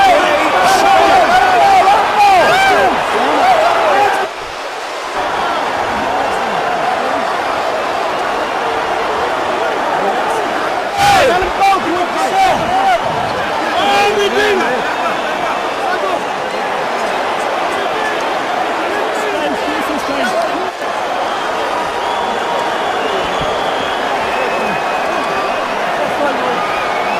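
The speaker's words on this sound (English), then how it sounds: "A stunned crowd here at the MCI Center in Washington" A stunned boxing crowd fills the MCI Center in Washington, D.C. after Kevin McBride defeats Mike Tyson, a steady loud arena roar and murmur running under continuous commentary.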